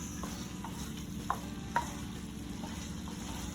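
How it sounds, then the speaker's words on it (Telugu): Salt and chili powder being stirred into mutton curry in a pan, giving a steady low scraping and bubbling with a couple of sharp spoon clicks against the pot. "ఇప్పుడు ఉప్పు కారం అనేది మంచిగా కలిసేలాగా మిక్స్ చేసుకోవాలి"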